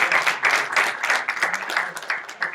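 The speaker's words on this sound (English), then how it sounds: "So again, another round of applause." A small audience at a sports communication careers panel clapping in a brief, uneven round of applause, with individual claps audible and rising and falling.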